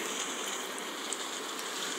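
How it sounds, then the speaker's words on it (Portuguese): Rain falls steadily during a bus trip on a Brazilian highway, a soft, even hiss of drops with road noise underneath, continuous and without speech. "E estamos aí com uma chuva"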